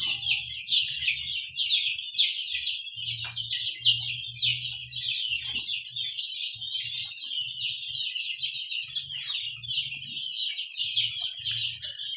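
Mixed roosters and hens of a meat-and-egg poultry flock cluck and chatter continuously, a busy, overlapping chorus of fowl calls close by, with low bursts of rumbling background noise underneath.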